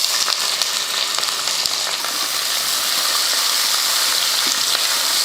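Sliced big onions sizzle in hot oil with bay leaf, star anise, cardamom and cloves, a dense steady crackle with occasional sharp pops and light stirring clinks, close and continuous.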